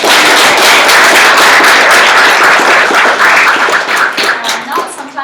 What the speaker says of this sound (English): Let's give a round of applause to our incredible VCs